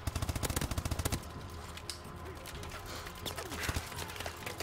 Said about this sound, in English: I'm using the KF5 SMG.